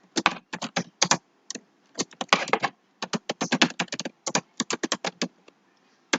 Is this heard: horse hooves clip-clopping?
no